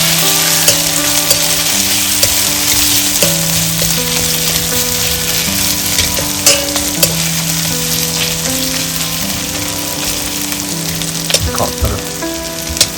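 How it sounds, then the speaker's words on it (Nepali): Cumin and garlic frying in oil in a pan for a Nepali-style chicken curry, a steady close sizzle and crackle with occasional stirring scrapes, no talk. "मजाले फ्राई गर्नुपर्छ"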